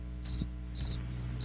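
A cricket chirps in short, bright trilled bursts, three pulses repeating about every half second, clear and close against a quiet background.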